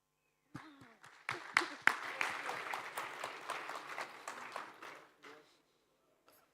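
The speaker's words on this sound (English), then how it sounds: "An applause, please." Applause from a conference audience swells after a few scattered claps, holds steady for several seconds, then tapers off, with a voice briefly under it, as a moderator takes the stage for a panel.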